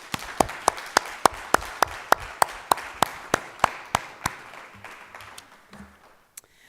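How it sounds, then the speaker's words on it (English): Sparse applause from a small audience at a school board candidate forum: a slow, evenly spaced run of single sharp claps, fairly near, fading out toward the end. "Audience, please give a round of applause to our candidates."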